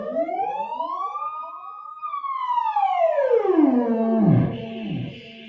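An electronic instrument tone glides and sweeps through pitch in layered harmonic arcs, rising then falling into low pulsing dips, loud and alone with no voices.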